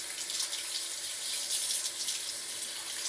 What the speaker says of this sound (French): Je vais me rincer un peu les mains.